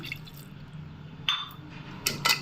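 Water splashes and trickles in short bursts into a metal pressure cooker close by, with brief clinks and a louder pour near the end.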